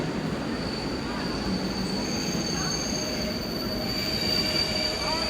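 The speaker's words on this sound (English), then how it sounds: "this is the train I'll be going on. It's the IC216 to Blałibastok." A PKP Intercity train, IC216, pulls into a station with loud, sustained high-pitched wheel squeal over a steady rumble of rolling rail cars, nearby and continuous throughout.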